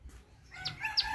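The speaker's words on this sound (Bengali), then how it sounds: "মোরগ এই দুইটা আমাদের" A rooster crows once at a home in a domestic setting, its call rising clearly over faint background noise in the second half of the moment, with no talking.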